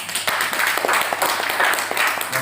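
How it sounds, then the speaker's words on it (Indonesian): Audience at a ceremony electing a business association chairperson, Swiss-Belhotel Manado, clapping in steady dense applause for a few seconds, moderately loud indoors. "Ya, tepuk tangan."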